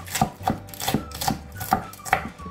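Six crisp knife chops on a cutting board in an even rhythm, close up, slicing through Korean cheongyang chili peppers with no talking.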